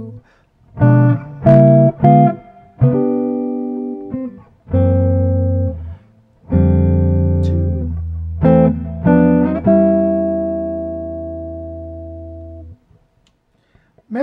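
Guitar chords ring out across four measures, struck in clear separated groups with sustained decays, the last chord held long before fading to near silence.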